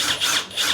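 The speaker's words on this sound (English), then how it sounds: "And then we're gonna kind of pre-drill" Power drill boring a pilot hole for a DIY wooden helmet and mask hanger, a close, steady whirring drone that swells and dips slightly as the bit bites.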